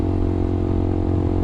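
A CFMOTO Papio SS motorcycle fitted with a cheap KO Racing-style slip-on exhaust with the baffle installed idles steadily and close up, with a low, even, throbbing engine note and no talk.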